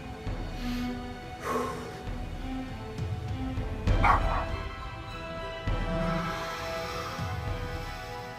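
A dog barks and yips in short bursts amid a busy, noisy background, with some voices and movement around it.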